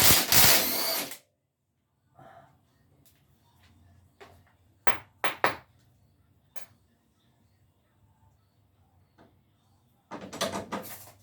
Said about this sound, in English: now we're going to take the tie rod bolt off